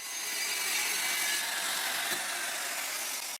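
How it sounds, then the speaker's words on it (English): Circular saw cutting plywood boards on an improvised jig, a loud continuous broadband rasping cut lasting a few seconds that stops abruptly at the end. "with the circular saw."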